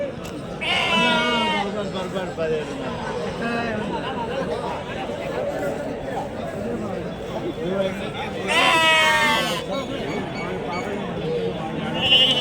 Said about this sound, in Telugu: ఇది గొర్రె, ఆ ఒక్కని 2 పొట్టేలు ఉన్నాయి.